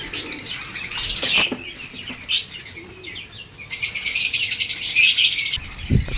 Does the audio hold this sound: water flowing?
no